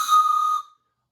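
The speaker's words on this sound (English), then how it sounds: "I have my whistle." A single bright toy train whistle blown once in a children's storytime, a short shrill tone lasting about half a second before stopping cleanly into silence.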